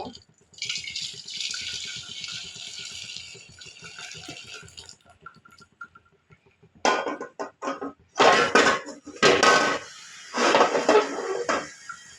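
Cooked sugar syrup pours and strains through a sieve, a steady liquid hiss with splashy bursts and trickling drips, fairly close and alone.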